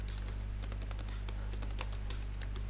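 Rapid keystrokes on a computer keyboard while writing HTML code, soft, close and irregular over a steady low hum, with no talking.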